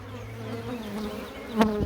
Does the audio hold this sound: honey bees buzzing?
yes